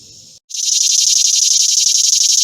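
A single katydid in a wild allotment garden calls loudly and close by with a continuous, rapid, buzzing trill that stays steady in level after a brief pause at the start.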